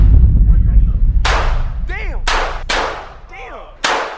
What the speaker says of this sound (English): Oh, Noah about to shoot for the first time.